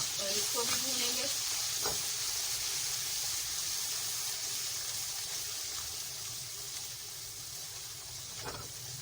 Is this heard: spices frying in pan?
yes